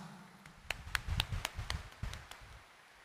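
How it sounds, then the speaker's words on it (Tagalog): Scattered clapping from a church congregation during a homily, a handful of sharp, separate claps in an uneven rhythm that build briefly and then fade, fairly faint. "taas nga ang kamay at pumalakpak ng mas malakas."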